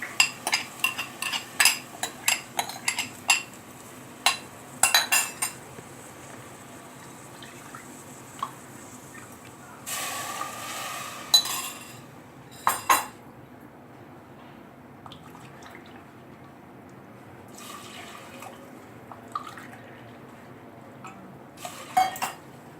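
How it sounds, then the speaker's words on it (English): Rice, water and milk going into a pressure cooker for sweet pongal: scattered metallic clinks and taps, a brief pouring burst around the middle, and faint drips at a quiet, close range. "Add 3 cups of water and 1 cup of milk."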